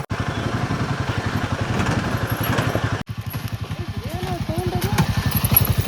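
A motorcycle engine runs close by on a rough, rocky ride, its rapid even pulsing thump continuing throughout, with a brief break midway and people talking over it.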